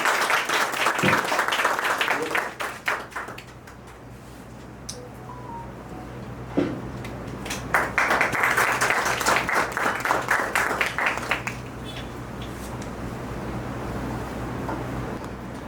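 Applause at an annual company awards function honoring the best employee of the year, a crowd clapping in two strong waves separated by a quieter lull, with a few sharp isolated claps between them.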